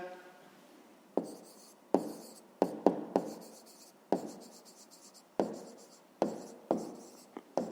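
Pen strokes on paper while an answer to a fifth-grade math exercise is written out: sharp scratchy bursts of writing at irregular intervals, each fading quickly, fairly close and with no talk.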